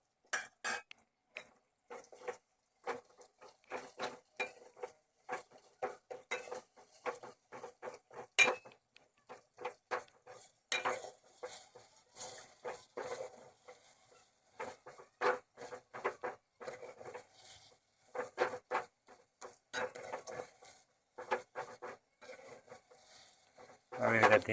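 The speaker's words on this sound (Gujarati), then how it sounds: "આવી રીતે ધીમા ગેસે હલાવતો રહેવાનું એટલે સરસ મજાનો ઓળો બનીને તૈયાર થઈ જાય" Steady scraping and clinking of a utensil stirring spiced eggplant mash (oḷo) with chilli, salt and turmeric in a pan over low gas, a long run of irregular close strokes with brief pauses and no talking.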